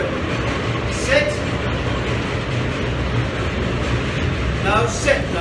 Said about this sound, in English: There's a train coming in, which causes excitement because of all the noise.